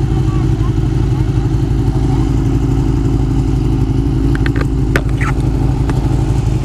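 A Ducati 959 Panigale sport motorcycle with stock exhaust rumbles steadily up close with a low, throbbing exhaust note, a few clattering sounds cutting through, and faint talk in the background.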